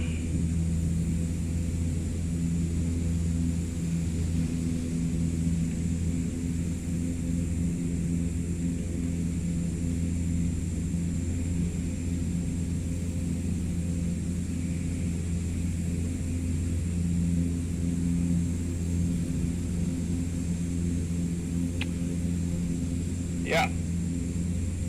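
Canadair CL-415 water bomber in flight in Microsoft Flight Simulator 2024, a steady droning propeller-engine hum with low rumbling tones held evenly throughout, loud and continuous, with one brief click near the end.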